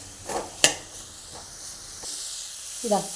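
Onion frying in a pan, with tomato added, gives off a soft, steady hiss punctuated by a few sharp clatters, while a voice talks quietly over it.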